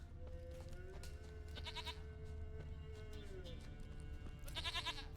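A goat bleats repeatedly in The Witcher 3: Wild Hunt, wavering cries arriving in a few bursts over a steady bed of game music and ambience, fairly distant and moderate in level.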